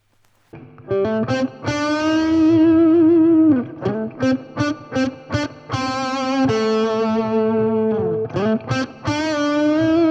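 A distorted electric guitar plays sustained chords and short stabs through a Roland Cube amplifier, with reverb letting each note ring and tail off.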